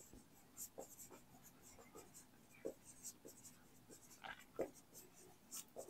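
Chalk or marker writing on a board in a physics class, heard as light scratchy strokes in short bursts with pauses, fairly close and alone with no talk.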